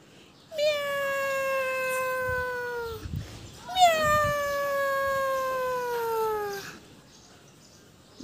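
Black cat meowing twice, two long drawn-out, wavering meows, each about three seconds, close and fairly loud with a brief pause between.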